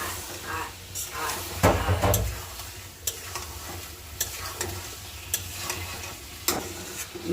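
Fish tossed into a spiced masala and stir-fried, giving a steady sizzle under repeated scraping strokes of a spatula against the pan, with a louder clatter of pieces going in near the start.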